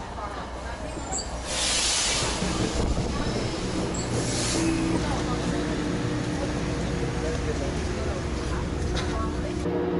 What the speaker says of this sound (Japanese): それではね、電車来ましたので、乗ってきました。